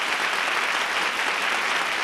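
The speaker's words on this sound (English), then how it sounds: "They're applauding a little longer than all the others." An audience at a rock and roll show applauds continuously, a thick, even roar of many clapping hands held at constant loudness throughout, with no talk heard over it.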